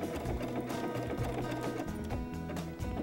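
Domestic sewing machine stitching along the edge of a fabric applique shape at adjustable slowed speed, a steady close mechanical whirring and needle chatter running continuously throughout with brief changes in pace.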